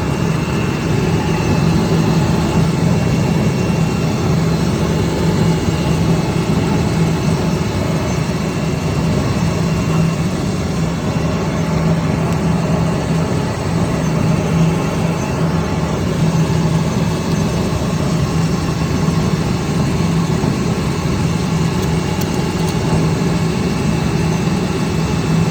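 Pump motor running steadily during maintenance work, its arbor and internal impeller turning; a continuous, even mechanical hum with a low drone and faint higher whine, constant and unbroken throughout.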